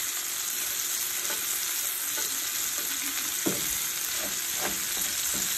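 Potatoes and other food frying together in one crowded pan: a dense, steady sizzle throughout, close and loud, with a few soft stirring scrapes and no speech.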